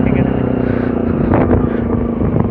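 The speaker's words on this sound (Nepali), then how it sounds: "साथीको बाइक चाहिँ बब्बाले आवाज आउनेछ" A friend's motorcycle engine drones steadily and loudly up close throughout, as if riding along on the bike, with a rough, continuous rumble and no pauses.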